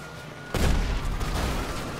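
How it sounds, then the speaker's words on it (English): A gunshot from an explosive weapon in Grand Theft Auto V bursts in suddenly after a quieter stretch, a loud close crack and boom that carries a dense rumbling tail to the end. "I just shot him with an explosive gun."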